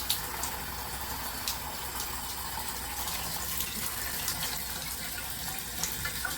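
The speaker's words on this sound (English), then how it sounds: "This is how low the water's running." Water from a chrome handheld shower head trickles at low pressure, a steady soft hiss and splash that runs unbroken and fairly quiet throughout.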